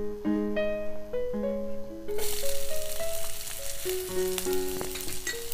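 Sliced onions hit a pan where chilies have just fried, breaking into a loud, dense sizzle partway through and continuing steadily under background music in a home-style cooking setting.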